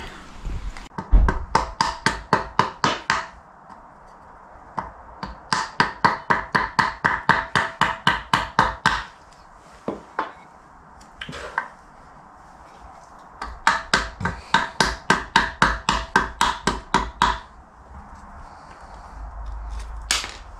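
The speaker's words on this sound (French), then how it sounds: "je vais prendre le marteau, je vais le mettre là et je vais le tapoter" Rapid bursts of sharp metallic tapping, a hammer striking a Renault Trafic engine part stuck with old oil, in quick runs of a dozen or more blows, with short pauses between bursts.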